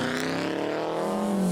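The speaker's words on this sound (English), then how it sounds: "Class 20 John Murphy in a Subaru Impreza" A Subaru Impreza rally car roars past at the West Cork Rally, a loud close engine note shifting pitch as it goes by.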